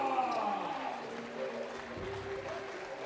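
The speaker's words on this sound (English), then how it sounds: "meeting the hugest round of applause to the whole team with red jersey, Team Debrecen!" Faint crowd applause at a FIBA 3x3 World Tour basketball event in Debrecen, welcoming the red-jersey home team, Team Debrecen, as a distant, steady clapping roar beneath an announcer's voice and arena music.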